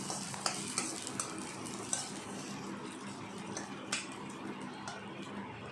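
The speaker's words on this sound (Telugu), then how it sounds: "ఇవి కూడా ఇందులో వేసి మంచిగా వేపాలి పచ్చి వాసన పోయే వరకు" Peeled garlic and ginger fry in a pan with a soft, continuous sizzle, broken by occasional light clinks and scrapes of a spoon against metal, fairly quiet and close.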